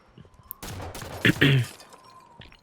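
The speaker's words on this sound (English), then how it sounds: "there are icicles. You can shoot them down." Gunfire in Halo 5 on the icy Stasis map, shooting down icicles: a loud burst of rapid shots lasting about a second, with a sharp cracking edge and quiet ambience before and after.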